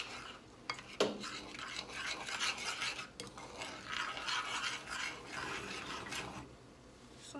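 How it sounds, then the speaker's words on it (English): A spoon stirs seafood boil sauce in a pot, a soft, quiet wet scraping and swishing with the odd light clink against the pot's side, and no voices. "I'm gonna stir it all in."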